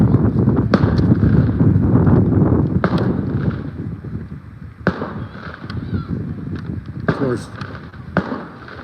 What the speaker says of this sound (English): that sounds more like a gun than it does firecrackers